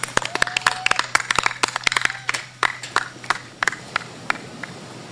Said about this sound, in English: please join me in giving a resounding round of applause